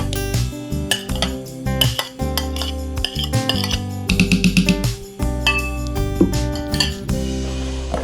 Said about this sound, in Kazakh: Тағы да араластырамыз.